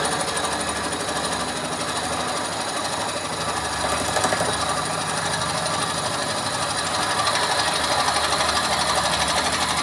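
A wood lathe turning a wet cherry root ball into a hollow form at just over 700 rpm, giving a loud, steady mechanical drone and rhythmic chatter with no letup and no talking.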